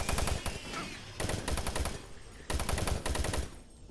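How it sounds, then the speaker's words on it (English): A machine gun in the Doom 3 video game fires in three long rapid bursts, loud and close, with brief pauses between them and no talk. "Oh yeah, the machine gun."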